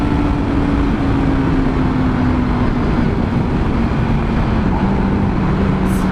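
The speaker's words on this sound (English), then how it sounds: "over revved on my first gear because of that bump I jumped across" A Yamaha R6 motorcycle engine straining in first gear gives a loud, sustained droning whine whose pitch sags slightly over several seconds. Heavy wind rush runs underneath throughout.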